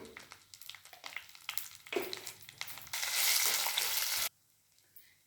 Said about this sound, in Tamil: நிலக்கடலை வறுபட்டு இப்போ கருவேப்பிலை கொஞ்சமாக மஞ்சள் தூள்